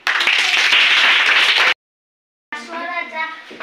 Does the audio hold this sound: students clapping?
yes